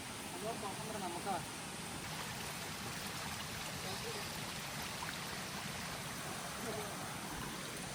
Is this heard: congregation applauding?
no